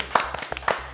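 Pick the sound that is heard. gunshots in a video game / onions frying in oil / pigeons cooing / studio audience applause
studio audience applause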